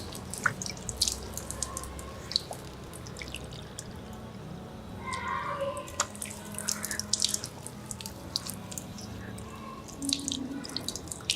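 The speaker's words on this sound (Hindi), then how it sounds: "ऐसे चुल्लू में पानी लेंगे दोनों हाथों से और आहिस्ता से ये हाथ पूरे चेहरे पर फेरेंगे" Water is splashed onto the face from cupped hands during ablution, with scattered drips and splashes falling into a sink against a running tap, moderately close and irregular.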